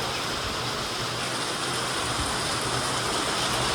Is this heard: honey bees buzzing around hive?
no